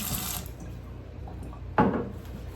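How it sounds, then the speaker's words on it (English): Tap water runs steadily over a sticky strainer used for straining quince liqueur, giving a soft, close hiss that ends in a brief louder splash. "I like to rinse this because now it's sticky."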